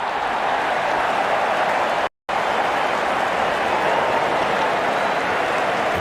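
A steady, dense roar of a large stadium crowd cheering the openers as they walk out in a cricket video game, continuous and loud apart from a brief dropout, with no talk.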